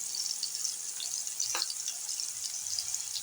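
Pieces of kinnow orange frying in oil in a pan make a soft, continuous hissing sizzle, with a brief louder pop partway through.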